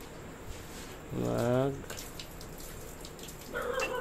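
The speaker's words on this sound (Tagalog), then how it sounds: "para higupin na lang ng kanyang pump para maubos yung tubig" A pump draining water from a koi fish aquarium gives a steady, soft watery rush and gurgle, with a brief voice-like tone partway through and some splashy flow near the end.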